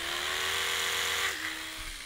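An Oral-B electric toothbrush buzzes loudly and steadily up close, its pitch dropping once partway through as the motor note shifts, with no voices.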